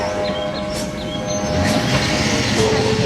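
A train rolls past steadily and fairly loud, a continuous rumble of rail wagons with faint wheel clatter and a thin squealing tone, no talk over it.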